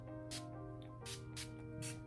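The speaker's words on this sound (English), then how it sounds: "this spray is a lot more gentle than the other ones" Several soft, airy bursts of makeup setting spray mist, each lasting a fraction of a second, repeat over a steady low hum in a quiet room.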